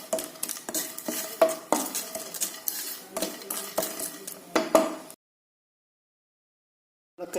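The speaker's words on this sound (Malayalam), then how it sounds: "ഈ ഉണക്ക ചെമ്മീനൊന്ന് ചൂടാക്കി വറുത്തെടുക്കുന്നു." Dried shrimp roast in a frying pan as a utensil stirs and scrapes against the metal in quick, uneven strokes with light clinks, loud and close, before the sound cuts off abruptly into silence.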